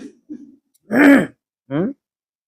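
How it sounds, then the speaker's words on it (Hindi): A man coughs and clears his throat during a spiritual talk, two short harsh bursts after a few faint throat sounds, close and fairly loud, with no speech over them. "बीच में खांसी आ रही है"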